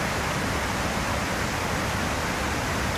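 Outdoors, a waterfall pours in a dense, constant rushing hiss, with breeze mixed in, steady and full for the whole stretch with no voices.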